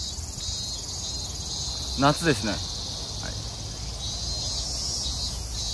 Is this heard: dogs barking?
no